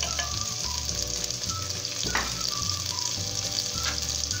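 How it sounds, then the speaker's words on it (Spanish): About 400 grams of beef cut into long strips sizzles steadily in a pan with seasoning for a Peruvian olluquito con carne, a loud, continuous frying hiss broken by occasional stirring scrapes, with no voices. "ahí vamos a ingresar nuestra carne picada en forma larguita"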